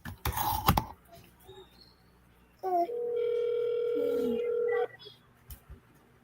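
A phone rings with an incoming call: a steady electronic tone holds for about two seconds after some rustling and handling noise. Brief murmurs are heard at the edges.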